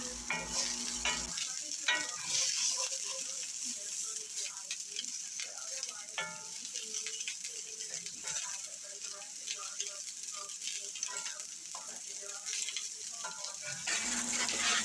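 Frugal meatballs sizzle steadily in a frying pan as they are turned, with rattles and scrapes of the utensil against the pan over a constant close-up frying hiss.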